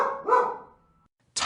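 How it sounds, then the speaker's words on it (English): A dog gives a bark or two, close and clear, which tails off into quiet before a short noisy burst at the end. "Crab, my dog."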